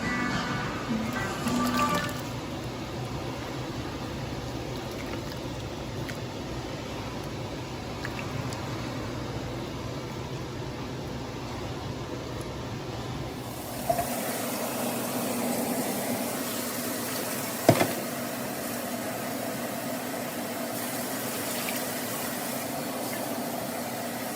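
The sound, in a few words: water poured into pan of collard greens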